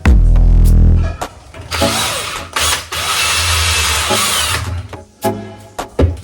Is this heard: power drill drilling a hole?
yes